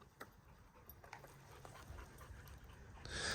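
Dogs on a pack walk panting softly nearby, quick faint breaths with a few light scuffs and rustles, ending with a brief burst of louder noise.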